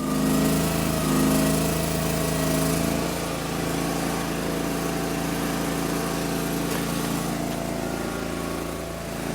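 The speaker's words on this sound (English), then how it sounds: "Get the splitter started" The gas engine on a log splitter runs steadily at close range, a continuous droning hum with a slight dip in pitch early on, then holding even, and no talk over it.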